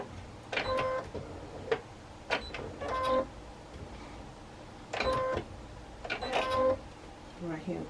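Sewing machine stitching quilt pieces in short bursts of running, separated by pauses and clicks, close and clear with faint background noise.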